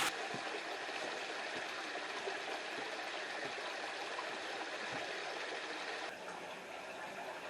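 A little stream flows through an abandoned quarry closed since the 1930s, a faint, steady wash of running water with no voices.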